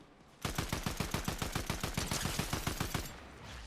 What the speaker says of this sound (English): The assault rifle does look really strong.